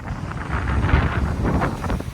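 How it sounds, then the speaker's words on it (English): Heavy wind buffeting the microphone on the coast of Hawaii's Big Island, a continuous loud low rumble with gusty swells throughout and no voices. "It's really windy right now."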